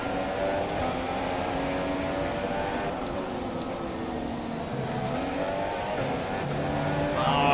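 Formula 1 race car engine in F1 2017 at the Russian Grand Prix, a loud high-pitched whine rising and dropping with quick gear shifts, building toward the end.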